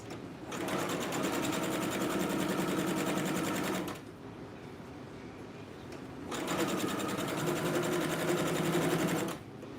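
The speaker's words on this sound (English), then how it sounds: "I'll be stitching this sleeve after I'm finished with this" A sewing machine stitches a sleeve in two long continuous runs, a steady close whirring rattle that stops briefly in the middle before starting again, with no voices.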